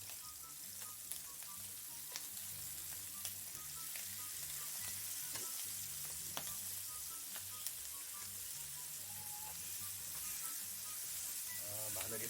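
Garnish vegetables stir-fry gently in a pan as a side for hamburg steak, a quiet, even sizzle with occasional light utensil taps, faint and close, no speech.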